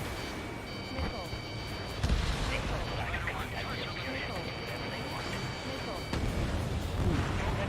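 Missile strike on the player's jet in the video game Ace Combat 7, a dense rumbling blast over steady engine roar and a repeating high warning tone, with the impact surging louder about two seconds in and again near six seconds.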